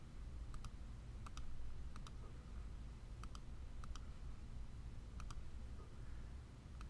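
Rapid bursts of keystroke clicks on a computer keyboard, tapped in short clusters roughly every second, faint and close over a low steady room hum with no talking.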